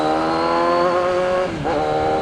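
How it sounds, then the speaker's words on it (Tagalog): A car and a motorcycle pass on a Manila-to-Bulacan road at night, heard from a Kawasaki Z1000 motorcycle. The engine drone is steady and loud, and a passing vehicle's pitch sweeps down near the end. "Kotse yun at motor."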